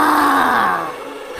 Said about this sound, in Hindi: लेकिन अचानक हमें एक चीख सुनाई दी।